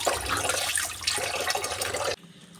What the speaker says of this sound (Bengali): দেখো আজকে কলের জলটা পড়ছি